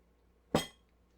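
A single bright clink of ice against a glass while a dry martini is being mixed, one sharp strike that rings briefly and then fades, with no talking around it.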